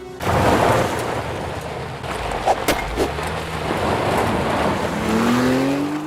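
A wheeled boat in a Minecraft animation drives over an island like a car, giving a continuous rushing engine roar with hiss and scattered clunks, a rising whine entering near the end.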